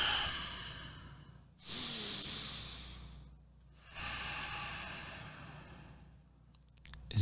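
Deliberate breathing exercise: slow, airy breaths heard up close, two long hissing inhales or exhales separated by quiet pauses, with no talking.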